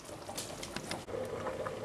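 A pot of bean stew with fried vegetables stirred in bubbles at a steady boil, close and fairly loud, with continuous crackling pops and a softly broken rhythm, and no voices.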